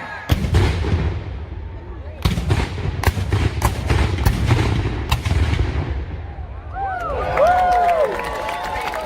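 Civil War 3-inch ordnance rifle cannons firing at an outdoor Civil War remembrance event: a series of sharp, loud booms in quick succession, echoing across an open field, followed by crowd noise and talking.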